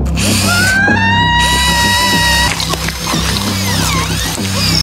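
A loud power drill whines continuously, its pitch climbing and holding, running close up for several seconds before cutting off abruptly.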